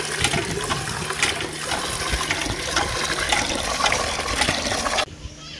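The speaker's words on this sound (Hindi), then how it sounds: "चाचू जी पानी भर रहे हैं" Water gushing from a tap into a pot, a loud, close, continuous rushing flow that cuts off abruptly near the end.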